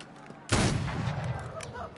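A single loud rifle shot from Assassin's Creed Unity on PlayStation 4 cracks out sharply and then decays into a booming rumble, with no other shots following.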